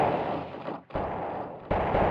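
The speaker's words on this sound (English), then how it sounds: "Now we got some mortars in the mix." Mortars fire in a Godot-made strategy video game as two loud, punchy blasts with a short gap between them, each settling into a steady rumbling tail.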